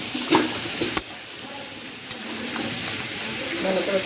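Chicken head frying and being stirred in a pan, a continuous moderate sizzle with a few sharp scrapes and knocks of the spoon against the pan, with a voice talking lightly in the background.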